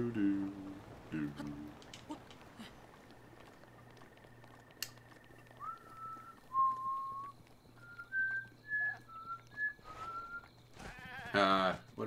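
A goat or ram bleats in The Legend of Zelda: Breath of the Wild, a few short calls among whistled in-game tones and light background ambience, moderately faint and heard without talk.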